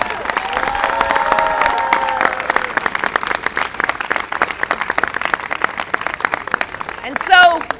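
A crowd at a political rally for a red flag gun bill bursts into loud applause and cheering. Dense clapping runs throughout, with a voice speaking partway through and a brief whistle or shout near the end.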